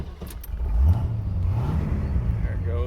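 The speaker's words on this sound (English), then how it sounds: "We're gonna fire this car up" A 1969 Chevrolet Corvette convertible with a 350 V8 and four-speed fires up, its low rumble swelling as it catches and then settling into a steady, throaty idle close by.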